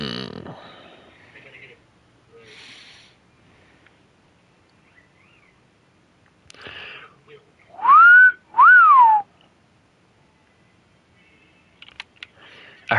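A person whistles two short rising-and-falling notes near the middle, loud and close, surrounded by quiet stretches with faint clicks and brief murmurs.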